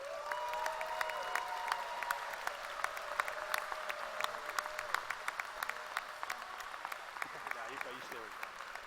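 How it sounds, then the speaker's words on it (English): A large audience at a medical school hooding ceremony applauds steadily throughout with dense, sustained clapping in a big hall, while a voice speaks faintly over it. "Turn and clap your family, your relatives, and your friends for getting you here today."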